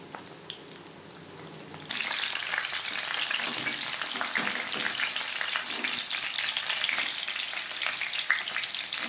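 Chicken satay dropped into hot oil, bursting into loud, steady sizzling and crackling frying on a medium flame after a quieter start, close and continuous with small pops.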